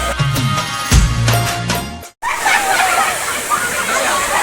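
Waterfall at Kileshvar Mahadev near Bhanvad, a broad continuous rush and splash of falling water, close and loud, briefly cut by a short gap, with people talking over it early on.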